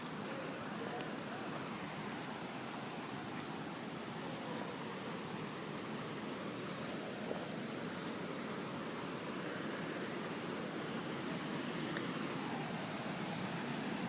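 A waterfall near the river at Ouzoud gives a steady broadband rush of falling water, constant and enveloping at moderate distance, unbroken for the whole stretch with no voices.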